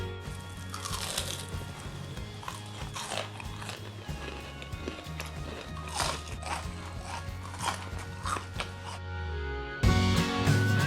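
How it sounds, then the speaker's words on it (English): Crisp, crunchy bites into fried potato and onion pakoda (aloo pyaaz pakode, mixed veg lachha pakora), close up and repeated over and over, with soft background music running beneath. "Hear the crunchiness."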